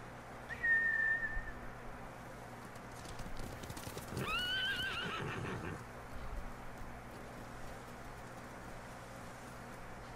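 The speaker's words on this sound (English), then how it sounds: "Bastards scared off the horses. They're samurai mounts, trained to return to their masters." Samurai horses in the video game Ghost of Tsushima, with clip-clopping hooves, a neigh and a whinny, and a whistle, all fairly faint over a low steady background, with no talk.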